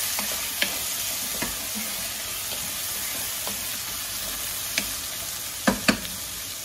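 Potatoes being stirred into a pot of browned lentil and zucchini soup base, a steady soft sizzle broken by a few sparse scrapes and clicks of the spoon, close and without talk.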